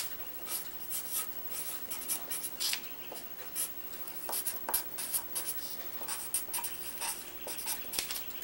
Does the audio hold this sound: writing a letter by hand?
yes